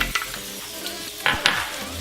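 Garlic sizzles in hot peanut oil in a pan for chili crab, a loud continuous frying hiss with a few scraping stir strokes and clinks of a utensil against the pan.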